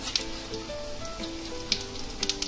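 Cumin seeds crackle and sizzle in a couple of spoons of hot oil for tempering, with soft faint popping and a few sharper spits.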